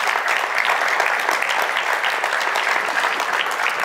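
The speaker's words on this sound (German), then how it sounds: "Einen Applaus für Track am Dienstag." Dense, steady applause from a live audience greeting podcast guests on stage at a fan convention, a continuous wash of many clapping hands without a break.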